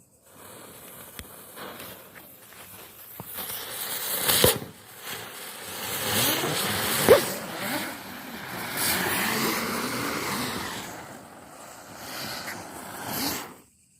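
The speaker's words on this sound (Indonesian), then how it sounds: "ini dia gangsing 3 warna, siap untuk kita nyalakan teman-teman" A three-colour spinning firework being lit and whirling, a fizzing, hissing burst that swells and fades over several seconds with crackling pops, fairly faint and without talk.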